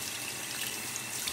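Tap water runs and splashes softly while a face mask is being rinsed off, making a faint, continuous wet trickle with no talking.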